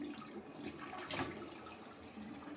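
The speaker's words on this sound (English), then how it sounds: "Even the sink over here is gurgling. Bathtub's draining." Mansfield Alto toilet flushing loudly while a nearby sink gurgles and a bathtub drains, giving a steady, close rush of running water with some splashy bursts.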